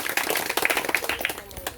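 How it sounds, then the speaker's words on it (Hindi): Applause welcoming a speaker at a company gathering, a short burst of scattered, fairly close claps with some voices mixed in. "एक जोरदार तालियों से स्वागत।"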